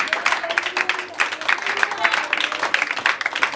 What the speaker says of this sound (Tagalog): Isang malakas pa na palakpak para sa ating Panginoon.